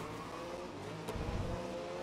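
An LMP race car engine in the video game Grid (2019) drones steadily at moderate volume, swelling briefly as it accelerates, with no talk over it.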